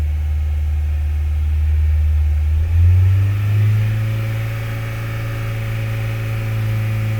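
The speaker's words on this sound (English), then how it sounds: "let's rev it up onto 3000 RPM" A car engine idles, then revs up to about 3000 RPM during a diagnostic check, rising to a louder, steady higher-pitched hum that holds close and alone with no talk.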